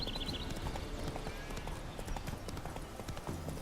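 Roach the horse galloping in The Witcher 3, a steady run of hoof clip-clops that carries on throughout over a game ambience, with a faint voice near the end.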